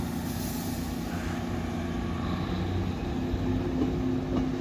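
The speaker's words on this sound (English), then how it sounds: "departing out now is the 1300 Great Western Railway service from Par to Nuki" A Great Western Railway train pulls out of Par station in Cornwall, a steady near rumble of wheels and engine drone with a faint high whine, continuous and unbroken with no talk.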